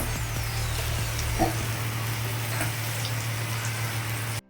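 Elephant foot yam stalks fry with mustard seeds and onions in a pan, giving a steady close sizzle over a low hum that stops abruptly at the end.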